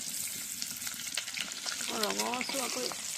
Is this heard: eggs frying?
yes